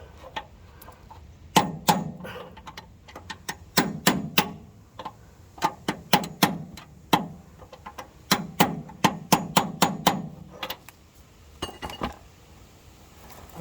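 A hammer taps the outside of a bolt during a steering repair, giving sharp metallic clinks in uneven bursts and quick clusters, close and fairly loud, with short pauses between the runs of strikes.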